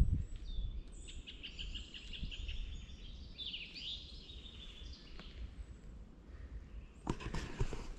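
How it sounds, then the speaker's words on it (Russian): Songbirds in a spring forest chirp and trill in scattered, fairly faint phrases over a low rustling background, with a louder brief sound near the end and no speech. "Очень красиво поют птички."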